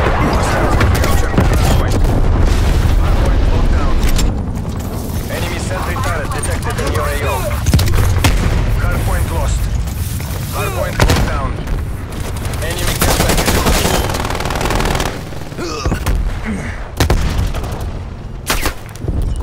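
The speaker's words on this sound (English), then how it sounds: "Deploy napalm strike on my grenade." Napalm strike blasts mixed with gunfire during a hardpoint match in a first-person shooter, loud booming explosions and crackling shots layered with bursts of announcer and player voices.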